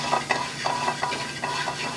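Sliced garlic and tomato frying in a hot pan give a lively sizzle broken by repeated scraping and stirring strokes at a brisk, uneven rhythm, close and moderately loud with no voices.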